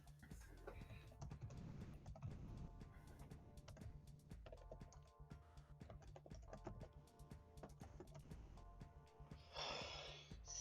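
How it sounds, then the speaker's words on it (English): Quick, irregular clicks of typing on a computer keyboard patter close to a microphone, with soft breaths and occasional bumps mixed in and a brief hiss near the end. "typing. Just ignore it."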